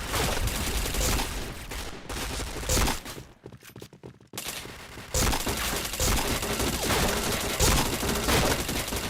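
Dense gunfire from the Point Blank shooter game crackles in rapid overlapping bursts, loud and close, pausing briefly for about two seconds midway before the shooting resumes. No talking is heard.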